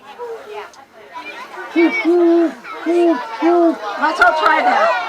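A group of voices imitates great horned owl hoots, a run of four or five low, evenly spaced hoots at an owl presentation, amid children's chatter and talk.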